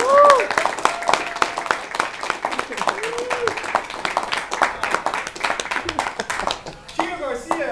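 Audience applause and cheering fill the room after an amateur comedian's first stand-up set, with steady clapping throughout, a whoop or two, and a host's voice speaking over the crowd.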